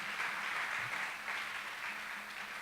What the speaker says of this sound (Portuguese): Vou dar uma salva de palmas.